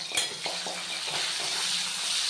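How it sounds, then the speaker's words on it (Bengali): Onion fries lightly in oil in a pan, giving a soft, faint sizzle with a few small clicks of a utensil against the pan. "পেঁয়াজটা হালকা করে ভাজা হবে।"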